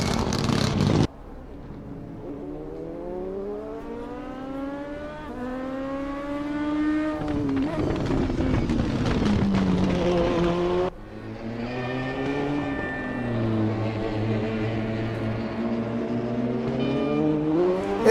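DTM touring race car lapping the Nürburgring GP circuit, engine revving hard and rising through the gears with sharp downshifts, loud and continuous, with other cars' engines joining in.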